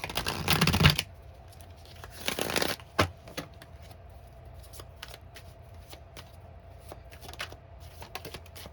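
Tarot cards are shuffled in two quick riffling bursts, followed by soft scattered taps and slides as individual cards are pulled and laid down in a quiet room.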